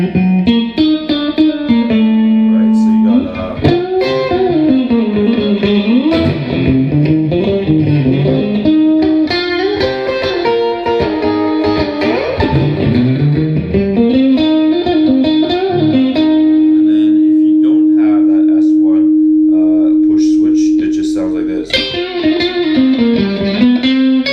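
A 2004 Fender American Deluxe Stratocaster plays a run of clean, effected notes with chorus-like shimmer and reverb, then holds a long sustained tone before picking up again. No voices.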